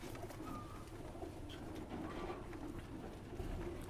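Many Teddy pigeons coo in a loft, including Pakistani, KTM and Oman Teddy types, giving low overlapping coos over steady crowded-loft noise with no talk.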